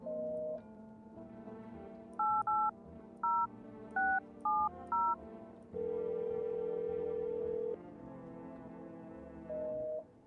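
Telephone keypad tones ring out in the video game No, I'm Not A Human: a steady tone, then a quick run of six short paired beeps, a long held tone and a final brief beep, with no talking.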